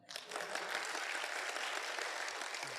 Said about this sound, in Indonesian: Aplaus buat Anda semua.